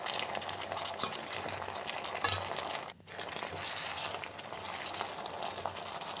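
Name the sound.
green tomatoes and green chillies frying in oil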